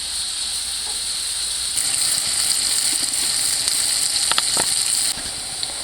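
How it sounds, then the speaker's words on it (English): Half a cup of sliced onion frying and caramelizing in a pan makes a continuous close, loud hissing sizzle, with a few soft stirring knocks partway through and a slight drop in intensity near the end. "now we'll add about a half cup of sliced onion. We'll allow them to cook until they're caramelized"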